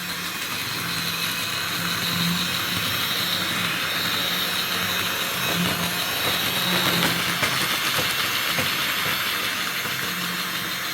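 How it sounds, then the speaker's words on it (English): A Tri-ang Jinty model locomotive runs on battery power along a Super 4 mainline track, its small motor giving a steady, close whirring hum with faint rail clatter throughout, no voices. "some really realistic running from this lovely Jinty. And a great noise coming from the motor."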